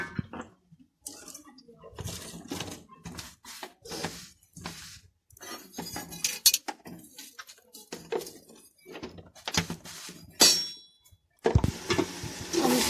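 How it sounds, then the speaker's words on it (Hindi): Masala for a chicken biryani fries in a pot with a little added water; a spoon scrapes and clinks against the metal in an uneven rhythm, with sizzling and wet squishing throughout. "अब इसमें थोड़ा सा पानी और डालेंगे ताकि मसाला अच्छी तरह से भुन जाए।"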